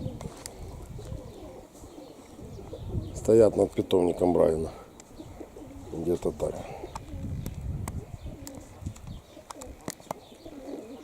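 Pigeons coo repeatedly beside a pigeon loft outdoors, the soft throaty calls rising clearly in the middle of the clip while someone talks over them in a breezy setting.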